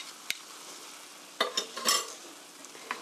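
Japchae noodles and vegetables being tossed together in a bowl, a few soft clicking and rustling scrapes that cluster near the middle, otherwise quiet.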